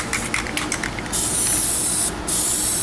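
A spray can sprays Plasti Dip onto car wheels in short hissing bursts, then a longer close, loud steady hiss with a brief pause before resuming.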